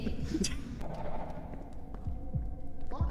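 A heartbeat effect from the horror video game Forewarned throbs low and steadily in a dull, repeating rhythm under game ambience and scattered clicks. Several faint voices come and go over it.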